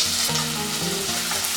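Chopped onion and bay leaf fry steadily in a pot for kwati soup, giving a close, even sizzle with a few faint stirring clinks.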